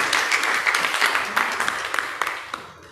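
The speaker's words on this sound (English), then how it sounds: "Can we have a big round of applause?" Audience applause at a women's business summit session in Ahmedabad: a crowd claps steadily with fast overlapping hand claps that taper off toward the end.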